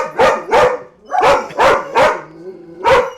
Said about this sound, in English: You don't even know why you were barking.